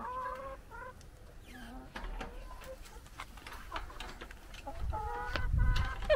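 Backyard hens clucking near a chicken coop, a few birds giving short repeated clucks and murmurs close by, scattered across the clip over light outdoor background noise.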